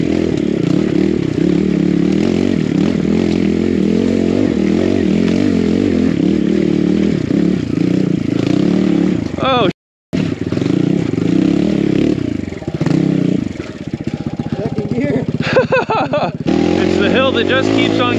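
A BBR KLX170RF dirt bike climbing a long snowy hill in a winter enduro, engine revving and bogging in uneven surges with clatter and scraping, a brief dropout midway, and a rider talking over it.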